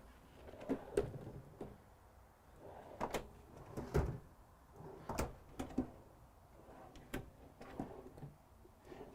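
Big, deep kitchen drawers in a 2020 Renegade Valencia 38RW motorhome sliding open and shut, with repeated soft thuds and clacks at an irregular pace, quiet and close by.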